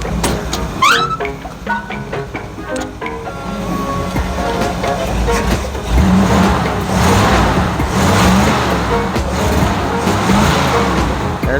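An old 1957 Chevy Bel Air barn find cranks and fires up, then settles into a steady, rough-running engine rumble. People talk briefly near the start.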